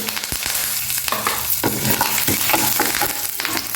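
Curry leaves crackle as they fry in hot oil for aloo samosa filling, a steady close sizzle with sharp pops and bursts throughout, no voices.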